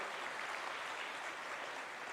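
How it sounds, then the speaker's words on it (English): An audience applauds at an annual awards dinner, the SHEDA Excellence Awards. Many hands clap together in an even, continuous wash of applause at moderate volume. "Round of applause to them, please."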